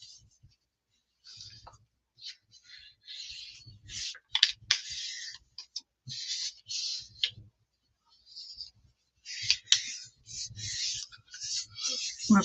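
Sheet of paper rubbed down by hand onto a gel printing plate, close dry scratchy strokes in short bursts separated by quiet gaps.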